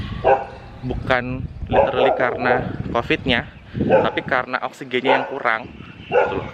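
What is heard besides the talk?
dog barking outside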